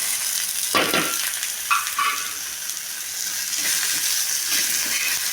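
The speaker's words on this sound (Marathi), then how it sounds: "कांदा भाजून घेते" Onion roasts in a hot pan, giving a close hiss and crackle with a couple of bright scraping strokes from stirring near the start.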